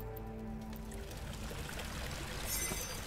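Water pours and trickles from a pipe in the horror video game Amnesia: The Dark Descent, a steady, moderately loud rushing stream with faint gurgling throughout, with no voices over it.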